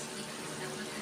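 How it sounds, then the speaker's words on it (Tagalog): Vinegar being poured into a pan makes a steady, hissing liquid splash that runs continuously for about a second, close and even. "Lalagyan ko na po ng suka"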